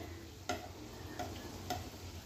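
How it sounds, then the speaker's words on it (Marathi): Vadas shallow frying in a pan, with a low steady sizzle of oil and three soft clicks of a utensil against the pan, quiet and close. "आता हे मी शॅलो फ्राय करत आहे"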